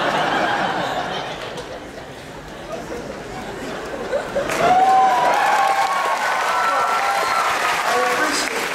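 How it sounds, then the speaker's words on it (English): An audience at a university speech claps and cheers, with chatter and laughter mixed into a broad, steady wash of applause that swells midway. "appreciate the applause"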